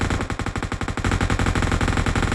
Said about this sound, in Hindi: हालांकि काफी सारी गोलियां चलाते हैं लेकिन एक भी नहीं लगी